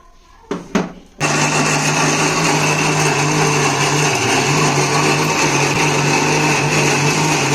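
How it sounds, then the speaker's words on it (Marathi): After a couple of clicks, a mixer grinder blending wild karvanda berries starts up loudly and runs with a steady, high-pitched whirring drone to the end. "चला मिक्सर का लावूया"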